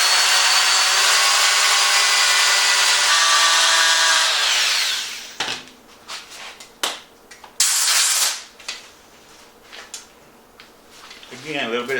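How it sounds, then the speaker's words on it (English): A loud, steady sanding-grinder whine grinds solid wood continuously for several seconds, then cuts out, leaving scattered knocks and short bursts of handling noise. "I'm going to use my sanding grinder just to grind it off."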